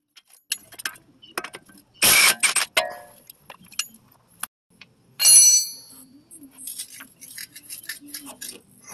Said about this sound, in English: I have a 22 millimeter box wrench here with a 22 millimeter socket